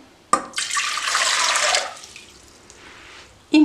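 Water pours into a chocolate hazelnut ice cream mixture in a short splashy stream for over a second, then fades to a quieter trickle before a voice begins at the end.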